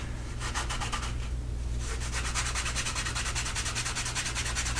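Canvas rubbed rapidly back and forth over the edge of a slim leather card wallet, a steady rhythmic scratchy swishing that runs close and continuous over a low background hum.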